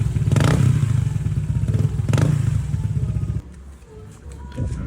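Honda ADV 160 scooter with a TRC power pipe exhaust and silencer fitted, revving close up in two strong throttle blips before settling into a lower, quieter idle burble.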